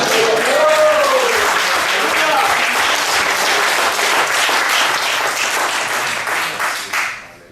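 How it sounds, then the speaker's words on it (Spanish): A church congregation bursts into loud, close applause during a sermon, with a voice calling out over the dense clapping before it fades at the end. "Dale un aplauso al Señor"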